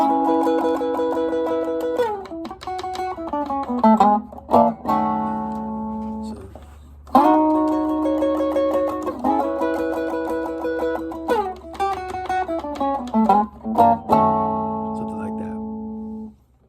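An electric guitar plays a Chicago blues lick in short phrases of picked notes, slides and chords, with brief pauses between bursts, close and clear with no voice heard.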